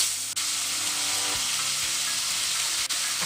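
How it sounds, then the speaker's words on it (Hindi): Marinated prawns fry in hot mustard oil for an Odia prawn curry, a close, constant sizzling hiss with faint spatters, steady and unbroken throughout. "तेल गरम हेले सेथरे आम मैरिनेट करथिबा चुंगुडी पकईबा"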